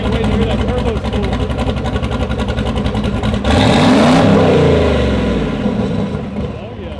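A junkyard 4.8-litre LS V8 with a turbo roars on a dyno, holding a loud buzzing drone, then swelling in a sudden rev midway and sweeping back down as it eases off.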